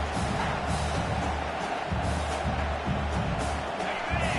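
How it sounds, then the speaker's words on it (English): A stadium crowd roars in a football video game, as a dense, steady wash of cheering with low rumbling pulses underneath. "The roar of the crowd trying to fuel this defense to keep them pinned in their own end"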